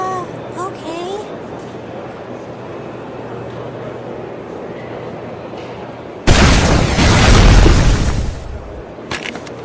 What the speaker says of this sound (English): shoot a rocket at me